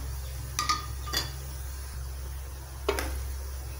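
Two cinnamon sticks and two cloves dropped into hot oil in a kadai, giving a few brief clinks and taps against the pan over a low steady hum, no talking.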